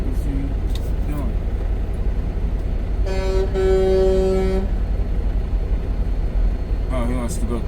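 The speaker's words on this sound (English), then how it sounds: "I don't know what the hell he was honking for." A vehicle horn blares once in a sustained, loud toot of about a second and a half, heard from a truck cab amid street traffic, with someone talking before and after it.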